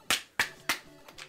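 A simultaneous clap in the Super Mario Odyssey video game: three sharp, close claps in quick succession, followed by two softer ones, all within about a second.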